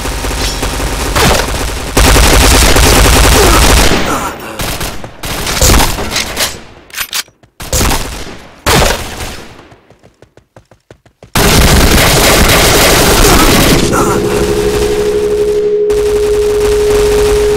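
Rapid bursts of automatic gunfire from the shooter game Point Blank, loud and close, broken by short gaps and sharp single shots, with sustained firing resuming near the end and no talk.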